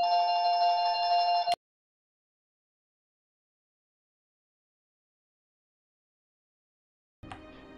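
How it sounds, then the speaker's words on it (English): A telephone rings in a room during a game session, with a steady, tonal electronic ring for about a second and a half. Silence follows, then the ring starts again near the end, loud and close with no talk. "it was the telephone ringing"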